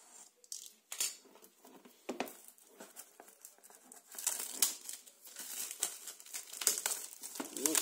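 A parcel holding a Chuwi Vi8 Plus tablet is unwrapped: crinkling plastic and paper rustle, with tearing and patter, in close, busy bursts that build toward the end.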